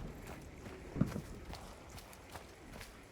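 Horse hooves in the Hunt Showdown video game give a soft, irregular clip-clop that stays low and steady over rain-like background noise.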